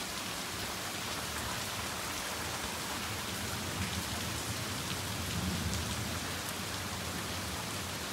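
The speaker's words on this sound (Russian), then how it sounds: "Такого сильного дождя давно не было." Heavy rain pouring steadily, a dense, loud wash of drops hitting surfaces without a break.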